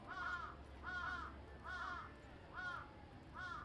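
Crows caw five times at an even, unhurried pace, each call a harsh, clear croak standing out against a faint, quiet background.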